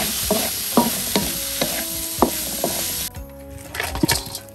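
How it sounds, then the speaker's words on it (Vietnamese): Straw mushrooms being stir-fried with basa fish in a pan, with repeated sharp scraping and tossing strokes of the utensil over a steady sizzle, which then drops to a quieter simmer with a few scattered clinks. "giờ em cho nấm rơm vô em xào chung luôn"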